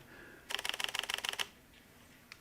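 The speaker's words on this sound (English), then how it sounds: "it takes several photos with one click of the shutter in rapid succession" A Canon S95 compact camera fires a rapid burst of about a dozen crisp mechanical shutter clicks in under a second, close and distinct, followed by a couple of faint isolated ticks in a quiet room.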